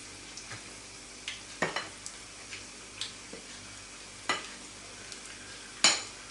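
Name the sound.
carp in pancake batter frying in hot fat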